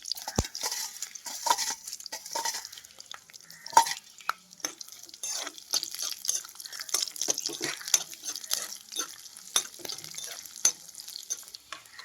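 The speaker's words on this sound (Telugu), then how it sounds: "అలాగే తాలింపు సరుకులు కూడా వేసుకుంటున్నాను" Tempering spices, green chillies and cumin hit hot oil in a pan and sizzle steadily up close, with scattered crackles, pops and stirring scrapes throughout, no voices.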